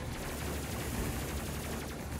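Rapid automatic gunfire from Petrov's weapon in the Space Crew video game, a dense continuous burst of shots filling the whole moment at steady loudness with no talk.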